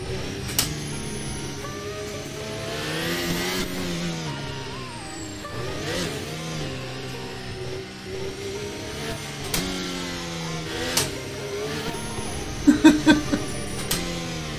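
A Formula 1 car races a dirt rallycross course in the Assetto Corsa video game, its engine whining and rising and falling through gear changes as a continuous near drone, with a few sharp bumps near the end.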